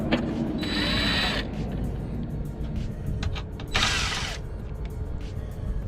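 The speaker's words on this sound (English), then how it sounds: "we'll loosen this 10mm bolt here on both sides so we can lift this up" Ratchet loosening a 10mm bolt beside the headlight of a 2016-2018 Gen5 Camaro, giving two bursts of close, rapid metallic clicking with creaks and rustling in between, no talking.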